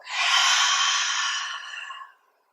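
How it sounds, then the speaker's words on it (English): A single long exhale during yoga practice, breathy and close, rising quickly and fading out over about two seconds, heard alone against silence. "Are you breathing with me?"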